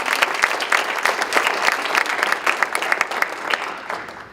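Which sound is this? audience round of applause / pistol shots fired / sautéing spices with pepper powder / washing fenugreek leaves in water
audience round of applause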